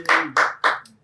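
Three sharp, close hand claps in quick even succession, followed by a softer fourth, during a podcast with a dance coach.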